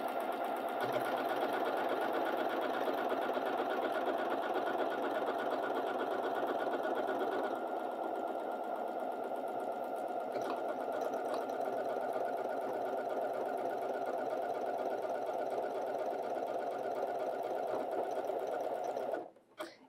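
Janome computerized sewing machine, from the 9480/9410/S7/S9/M6/M7 line, stitching a buttonhole automatically: a steady, close, continuous motor whir with rapid needle chatter running about eighteen seconds, then halting abruptly at the end.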